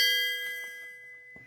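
A short electronic notification chime rings once with a bright, sustained tone that slowly fades, followed by a faint click.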